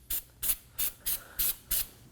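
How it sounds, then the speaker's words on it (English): Six short, evenly spaced bursts of Never Seez anti-seize spray hiss from an aerosol can onto the edge of a wheel hub on a 2017-2024 Nissan Armada, quiet and close. "we want to go ahead and spray some Never Seez around the edge"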